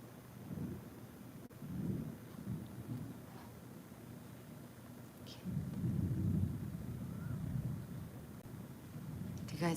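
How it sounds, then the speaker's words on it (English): Distant thunder rumbles low and soft, swelling twice in long, deep rolls over a faint background hiss. "Do you guys hear the thunder?"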